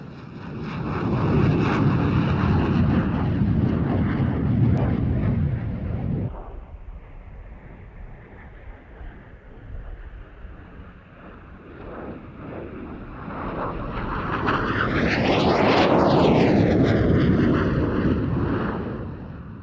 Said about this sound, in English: The Tiger II has replaced the Hunter in the Swiss Air Force, and the pair displaying here at Air Fete 95 are in the colours of the Patrouille Suisse